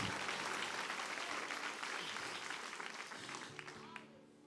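A church congregation applauds during a service, a full, fairly faint wash of clapping that slowly fades out by the end.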